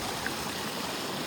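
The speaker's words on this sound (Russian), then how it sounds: "Вода родниковая, источники." Spring water runs steadily from a natural source in open countryside, a continuous close rushing trickle with no other sounds.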